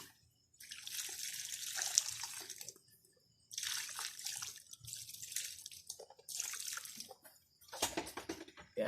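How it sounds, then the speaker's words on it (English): Water poured over newly propagated philodendron plants in pots, coming in several separate splashing, trickling bursts with short pauses between them, fairly soft and close, with no talking. "And it's time to water."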